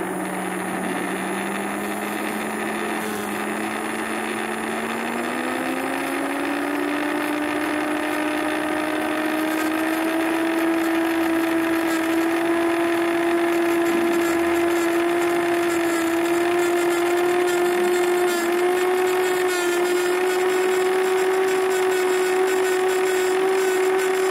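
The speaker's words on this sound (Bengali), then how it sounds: "মোটর একটা নির্দিষ্ট স্পিডে ঘুরছে। এইবার আমরা 10 কিলো ওহমের পটটাকে অ্যাডজাস্ট করব, দেখব মোটরের স্পিড বাড়ছে।" A small DC motor driven by a PWM signal and governed by a 10 kilohm potentiometer spins with a steady electric whine that climbs in pitch as its speed increases, running continuously and up close with no talking.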